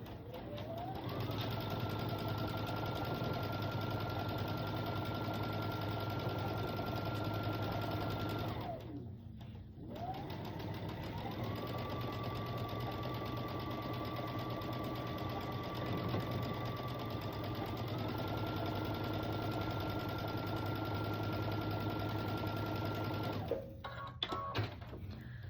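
An electric sewing machine stitches a quilt block, with a steady, close mechanical whir that runs for several seconds, pauses briefly, then runs again at a slightly changing speed before stopping.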